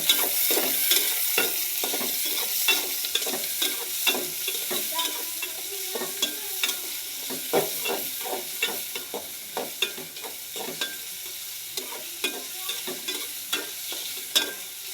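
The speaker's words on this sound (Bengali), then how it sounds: "তো আমার পেঁয়াজটা ভাজা হতে থাক" Chopped onions fry in a pan for a country chicken curry, with a steady sizzle broken by regular scraping and clinking as they are stirred, close up and with no voices.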